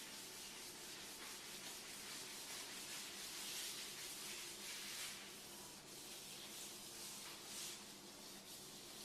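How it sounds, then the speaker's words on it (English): A hand rubs granite sealer along a countertop edge, a faint, steady rubbing and swishing hiss that carries on without a break and swells slightly in places, heard alone. "just squirt it into your hand and then rub it along the edge"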